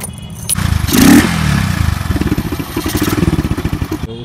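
A Honda Twister motorcycle with its air filter removed revs up, a loud bark swelling then settling into a rapid, pulsing idle-to-rev rhythm close by, no talking.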